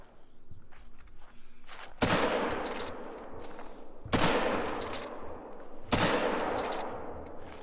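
Rifle shots at a wild boar in the hunting game Call of the Wild, three loud, sharp reports spaced about two seconds apart, each followed by a long reverberating tail over quiet outdoor ambience.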